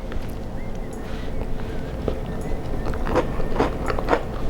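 A bite into a s'mores cupcake topped with crunchy graham cracker gives a few close, soft crunches and chewing sounds over a steady low background, with no talk.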